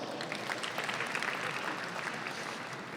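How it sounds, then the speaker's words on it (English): A conference keynote audience in New Delhi gives a round of applause for a speaker, a dense, even wash of many hands clapping, moderately distant and continuous. "So give Partha a big round of applause."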